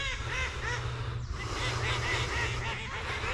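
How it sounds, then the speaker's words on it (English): A duck on a pond gives repeated rapid, nasal quacks that run continuously, close and clear, over outdoor background noise. "Oh, duck there, is that one of mine or is that just a wild one?"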